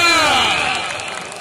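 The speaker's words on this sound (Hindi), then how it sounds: "तालियां" Crowd applause and cheering at a kabaddi-style match between Sajid Khan and Aneel Chand, a dense wash of clapping that starts loud and slowly fades over a second and a half.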